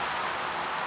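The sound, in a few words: pouring rain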